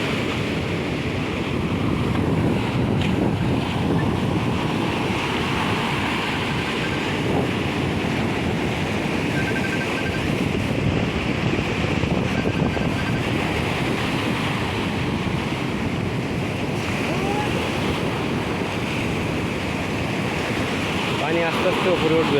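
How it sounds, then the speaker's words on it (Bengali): Waves crash against rocks and push water upward, a loud, steady roar of surf churning with gusty wind noise across the whole stretch, with no clear break. "এই জায়গাটাই পাথর এসে ধাক্কা মারছে, পানিটা উপরে উঠছে"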